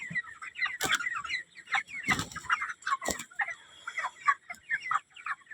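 Several chickens cluck close by in a busy, uneven stream of short calls, broken by a few sharp loud squawks and thumps.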